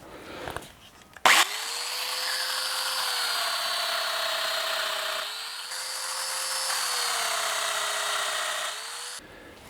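A power drill fitted with a centering bit bores into wood for architect's trestles. After a click, a steady high whine runs with a slight dip partway through, then it stops abruptly. It is fairly faint and no one talks.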